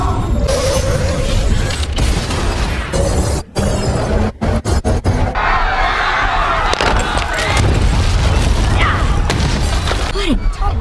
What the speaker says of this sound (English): What a detonation.